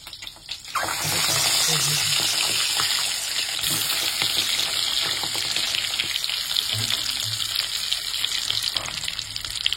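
Egg curry masala made with duck eggs frying in a pan, a steady loud sizzle running nearly throughout with stirring clinks and scrapes, and a watery hiss layered over it.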